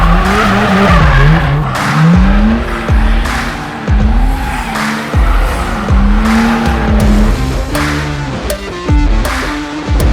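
A gymkhana car drifts beside a wall on a qualifying run, close and loud. Its engine revs rise and fall while the tyres squeal again and again in rhythmic bursts through each slide.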